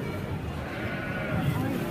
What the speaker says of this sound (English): These are Australian white sheep.